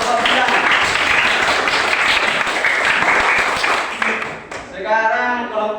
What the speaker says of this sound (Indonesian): Tepuk tangan untuk kelompok bintang